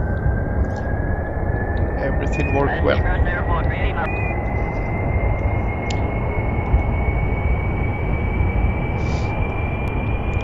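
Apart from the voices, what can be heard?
jet engine airplane taking off in Kerbal Space Program video game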